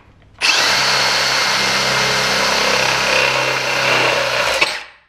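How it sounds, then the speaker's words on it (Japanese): A high-pitched electric drill on high-speed mode whirs steadily for about four seconds, loud and close, cutting a hole in a metal raceway duct channel, then winds down as it stops. "ドリルのですね、高速モードを使っております。"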